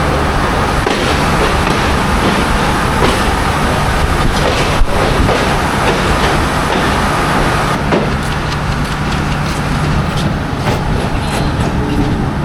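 A commuter train on the Khulna to Benapole line near Jessore Junction rumbles along continuously, a loud steady roar of wheels and carriage rattle with occasional clacks, heard from inside.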